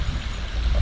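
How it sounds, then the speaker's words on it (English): Water flowing out of a pipe into a newly built garden pond, a steady close pour and trickle that fills the brief moment with no voices. "it looks like it's flowing through the pipe and coming out this end and then flowing back down into the pond."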